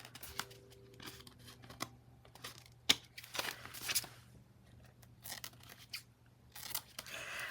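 Scissors trim paper at a craft table while finishing a lace sample book: quiet, irregular snips and light paper rustles come in short bursts against a low room hum.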